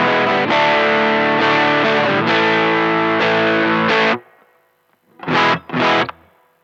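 Stratocaster-style electric guitar at full volume on the middle pickup, driven through a DIY two-transistor breadboard overdrive pedal at maximum gain: a loud, thick distorted strummed chord sustains for about four seconds, then two short chord stabs follow.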